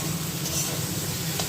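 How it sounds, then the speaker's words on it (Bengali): Chopped ginger fries in a pan with ground coriander, turmeric and salt. A short, dense sizzle is heard up close and alone. "এখন এটা একটু ভেজে নেব"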